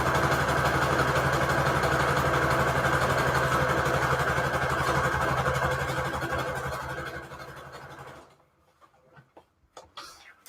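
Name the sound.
sewing machine stitching scrap paper pages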